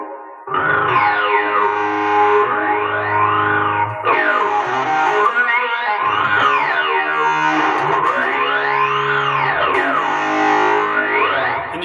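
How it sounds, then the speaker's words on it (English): Electric guitar played through a fuzz pedal on an overdrive multi-effects box, thick distorted sustained chords with sweeping jet-like filter swoops rising and falling, loud and continuous. "we can try some of the weird stuff like the fuzz pedals."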